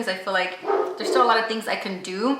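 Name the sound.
neighbor's dog barking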